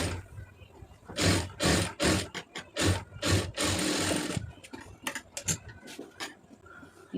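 Sewing machine stitching along a marked seam on fabric, running in short uneven bursts with brief stops between them, close and clear with no talking.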